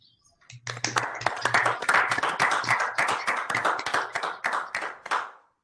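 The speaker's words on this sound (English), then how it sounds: "Can we just take a moment to appreciate all of these nominees with a round of applause?" A small audience at a university board of regents meeting claps for award nominees, a modest round of distinct hand claps that builds quickly, holds steady for several seconds and then thins out.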